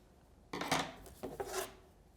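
Scissors trim yarn tails on punch needle work, with a few close snips and rustling cuts in a short burst after a quiet start, and no talking.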